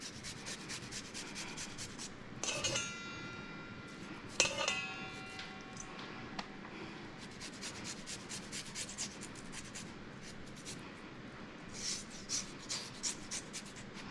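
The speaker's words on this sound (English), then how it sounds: "this garlic is super fresh, so it's gonna be super easy to grate down" Fresh garlic is grated on a rasp grater in a kitchen, producing quiet, continuous scratchy rubbing strokes with a couple of brief clinks partway through.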